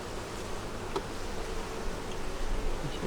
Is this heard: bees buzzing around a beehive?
yes